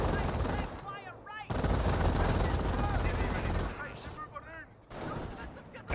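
Sustained bursts of MG42 machine-gun fire from the World War II strategy game Company of Heroes, loud and continuous with brief gaps and a short pause, mixed with battlefield noise.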